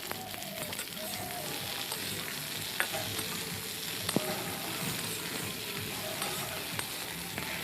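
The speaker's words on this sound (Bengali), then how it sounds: "প্রত্যেকটা সবজি দেওয়ার পর অল্প অল্প এরকমভাবে নেড়ে নেব, যাতে প্রত্যেকটা সবজি ভাজা ভাজা হয়।" Beans and mixed vegetables fry steadily in a pan for a mixed vegetable curry, a continuous close sizzle broken by occasional scraping clinks of stirring, with no voices.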